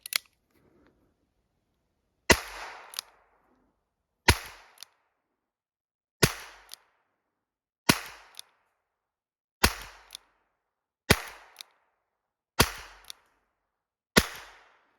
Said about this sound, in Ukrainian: Саме так 8 пострілів зробив